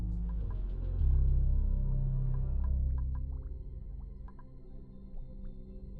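Water pours into an insulated tank in the colony game Oxygen Not Included. A low, steady gurgling rumble carries scattered small bubbling drips and plinks, then eases and thins out toward the end.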